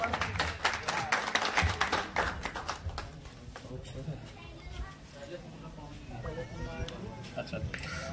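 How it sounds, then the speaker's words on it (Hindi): Crowd clapping at a political rally in Ramgarh, a dense burst of applause that fades as someone speaks loudly over a public address system. "जोरदार ताली एक बार"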